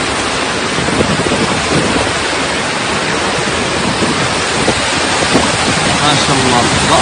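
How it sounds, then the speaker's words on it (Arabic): Waterfalls pour down after rain in the Hail mountains, a loud, steady, broadband rushing roar that fills the whole stretch without pause, with wind buffeting the microphone. "شوف الشلالات هذه كلها تصب"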